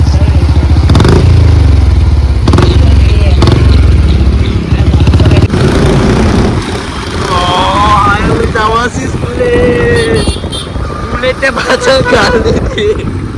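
A Royal Enfield Bullet motorcycle rides with a loud, continuous engine drone under heavy wind buffeting, and voices talk over it for much of the ride.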